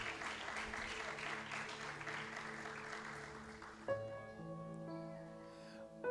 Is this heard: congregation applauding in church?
yes